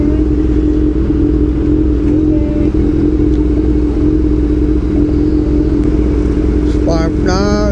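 A Honda CB400 Super Four motorcycle engine idles with a steady, loud rumble while losing power, holding an even drone before a brief higher rev flutter near the end; someone speaks over it.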